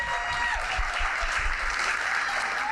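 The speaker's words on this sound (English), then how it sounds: "Give them please a round of applause." Steady audience applause filling a podcast studio at the close of a gaming discussion, dense and continuous clapping at even loudness throughout.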